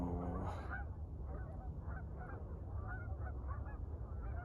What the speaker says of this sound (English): The honking, honk, honk, honk, honk, honk symphony.